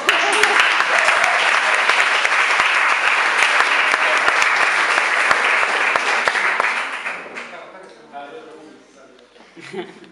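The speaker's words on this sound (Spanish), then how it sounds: "la Emi Álvarez, un aplauso." Audience applause follows a performance at the final of the 1st Portugal International Guitar Composition Competition in Seixal, 2020: dense, steady clapping for about seven seconds, then it thins out and fades as a voice begins to speak.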